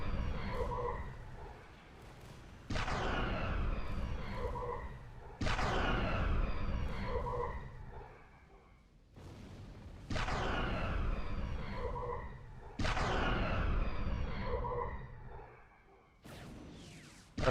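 A big starship gun in Project Stardust fires in heavy, booming bursts, each a loud blast that decays into a whooshing rumble, repeating about five times at regular intervals with brief quieter gaps between.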